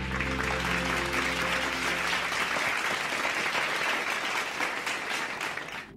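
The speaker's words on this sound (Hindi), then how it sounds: "आदित्य के लिए तालियां।" A studio audience on a Hindi television game show claps steadily for a contestant being eliminated, with a low musical hum under the first few seconds and the applause tapering off at the end.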